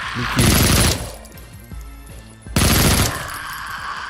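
Rapid automatic gunfire in the retro shooter Project Warlock, two loud sustained bursts separated by a quieter stretch with scattered impacts.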